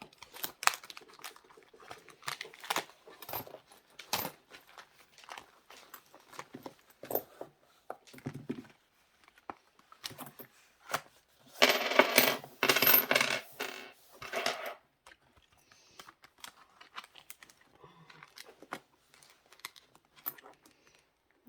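Coins clink and drop onto a surface in scattered bursts while being counted out, with a dense cluster of rattling jingles midway and quieter single taps and paper rustles around it.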